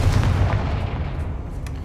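A Confringo fire blast spell cast in the video game Hogwarts Legacy, a single heavy booming burst with a rumbling low impact that fades out over under two seconds.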